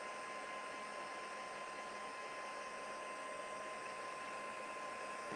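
A hair dryer on its low setting blows continuously over a tissue paper watercolor, giving a steady, even whoosh with a faint motor whine that holds at one level throughout.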